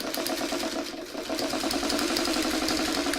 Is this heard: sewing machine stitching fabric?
yes